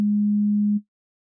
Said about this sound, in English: we're going to just have energy on the first fundamental, and that then is just a sine wave.